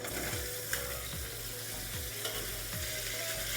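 Diced potatoes fry in mustard oil in a wok, a steady dense sizzle with low, repeated scraping strokes of stirring at a regular rhythm, close and alone.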